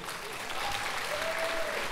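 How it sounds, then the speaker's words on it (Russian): Dense, steady applause from a comedy league audience fills the hall without a break, loud and continuous, with a voice briefly audible over it. "Харьковчане, вы их видите, если слышите, аплодисменты."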